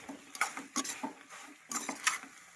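Pasta being fried and stirred in a pan for an egg pasta dish gives light, irregular clinks and scrapes of a utensil against the pan, in short clustered bursts with brief quiet gaps.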